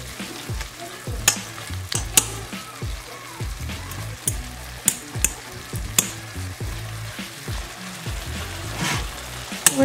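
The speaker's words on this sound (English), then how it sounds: "Gonna stir it." Meat for carne con papas en chile verde sizzles in a pan while a utensil stirs it, with rhythmic scraping strokes and occasional sharp clinks over a constant close frying hiss.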